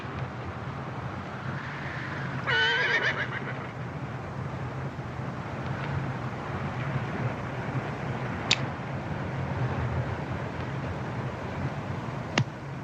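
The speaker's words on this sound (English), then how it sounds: "Caballo" A horse gives one brief, high whinny early on, set against a steady, wind-swept outdoor rumble; no clear hoofbeats stand out.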